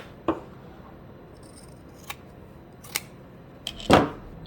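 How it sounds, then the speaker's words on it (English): Fabric scissors snip excess cloth from the boxed corners of a lined tote bag: several sharp, isolated cuts spread apart, ending in a louder, fuller crunching snip near the end, with no talking. "Take your corners and we can trim off the excess."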